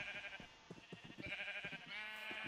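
Sheep bleat in the Minecraft video game, a few wavering cries over a bed of game ambience and rhythmic footstep-like taps, fairly faint.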